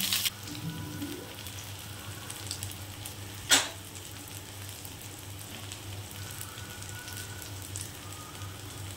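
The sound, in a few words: coconut poppy seed fritters frying in a frying pan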